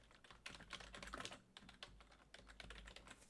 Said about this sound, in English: Now from here, you have to input their email address.